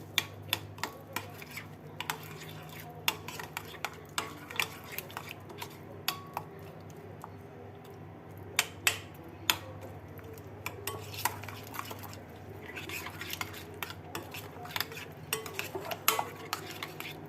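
A utensil clinks and scrapes repeatedly against a dish while ingredients are mixed in a tray for a potato and chicken thigh bake with chermoula, an irregular series of sharp taps over a low background hum.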